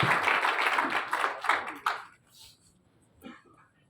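Audience at a first community gathering applauds in a dense burst of many hands that fades out after about two seconds, leaving near silence with one faint sound.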